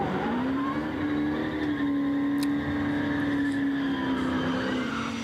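Drag racing cars, among them an 03 Cobra with a whiny Eaton supercharger, run down the racetrack with a steady engine drone and a rising whine, heard from a distance without talk.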